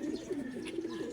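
A racing pigeon named Purple, the first to drop back into the loft, gives soft, low, repeated cooing in a rolling throaty rhythm, close and moderately loud with no talk over it.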